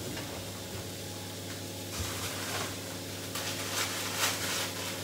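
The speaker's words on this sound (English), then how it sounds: "Whilst that's frying off" A soft, steady sizzle of onions frying in a pan, with a low hum underneath and no voices.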